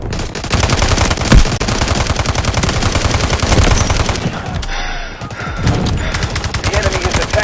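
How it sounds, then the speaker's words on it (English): Rapid machine-gun fire and gunshots fill a video game battle, dense and loud throughout, with a heavier boom near the start and a brief lull midway before the firing resumes. "Artillery barrage ready."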